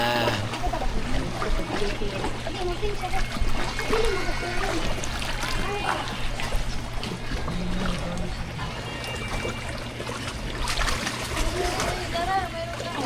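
Water splashing and sloshing as people swim in clear sea water off Limasawa island, with steady close splashes, a constant low hum and people talking throughout.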